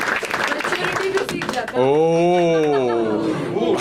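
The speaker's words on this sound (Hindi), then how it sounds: "एक बार बसीर के लिए ताली बजा सब लोग" An audience claps for Basir at a podcast gathering: a dense burst of applause for under two seconds, then giving way to a sung melody that carries through the rest.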